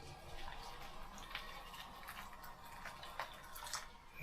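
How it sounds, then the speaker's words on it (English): Hot water pours into a container in the kitchen, a steady close splashing and trickling stream with a few sharper drips, running continuously for a few seconds with no talk. "first of all I'm going to put some hot water in this"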